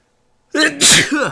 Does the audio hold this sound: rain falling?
no